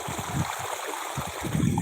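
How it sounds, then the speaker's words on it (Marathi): Water gushes out under pressure on a farm despite attempts to hold it back, a steady rushing hiss with gurgling surges throughout. "हे बघा प्रेशरनं पाणी बाहेर येत असल्यामुळं"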